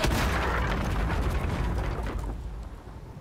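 Thunder Wave spell in Baldur's Gate 3 lets off a loud booming burst that rumbles broadly and fades slowly over a few seconds, with no speech over it.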